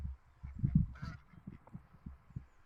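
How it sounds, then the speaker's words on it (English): Ducks gathering at a virtual pond in the video game VRChat produce a steady run of soft, low, muffled quacks and honking calls, close but quiet. "And all these little ducks can come see you."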